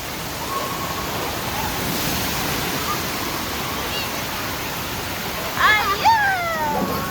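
Water rushes in a continuous broad roar at a water park pool, with brief shrill voices breaking through near the end.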